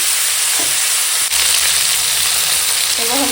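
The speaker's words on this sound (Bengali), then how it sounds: "শুকনো লঙ্কা ফোড়ন দিয়ে আলুগুলো দিয়ে দিলাম" Potatoes frying in hot oil with dried red chilli tempering, a loud steady sizzle filling the whole stretch, with a brief clink of a utensil partway through.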